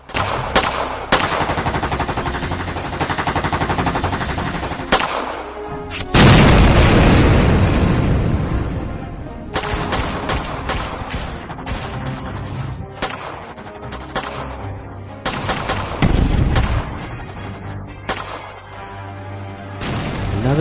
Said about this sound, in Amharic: አለቃ ያለማቋረጥ እየተኮሱ ነው